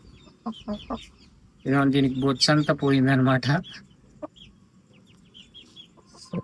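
A hen squawks loudly and harshly in a burst of drawn-out cries while being caught by hand, with brief clucks before and after and a person talking quietly nearby.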